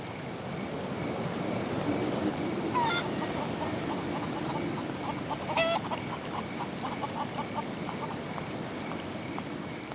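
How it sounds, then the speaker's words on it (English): A wild rooster in a video game crows and clucks in short bursts over a constant, surf-like ambient wash, with two sharper calls standing out. "This wild rooster won't let me past."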